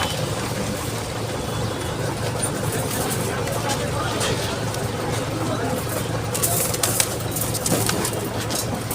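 Pigeons coo amid a busy weekly pigeon market in Tongi, their calls mixed into crowd noise and nearby conversation that runs throughout.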